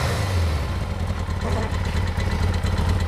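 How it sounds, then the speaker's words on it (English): A John Deere motorcycle engine rumbles and clatters at a steady idle with a deep, tractor-like chug, loud and close throughout with slight revving. "Start. There it goes. Oh, love it. Sounds good. Tractor, just like a tractor."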